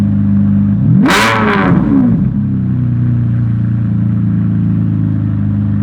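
A Ferrari 599's deep V12 engine idles steadily, then briefly revs with a loud rising-and-falling roar around the first two seconds before settling back to a low rumble.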